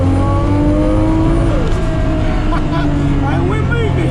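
An RB26-swapped Datsun 240Z making about 645 wheel horsepower on flex fuel pulls away under load. Its engine note is loud and close, rising in pitch, easing briefly, then climbing again as it accelerates.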